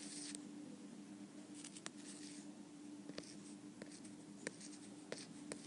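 A pen drawing a graph on paper, giving quiet scratchy strokes with a few sharper taps, close and faint, with no talk.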